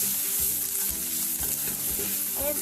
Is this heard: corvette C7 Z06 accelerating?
no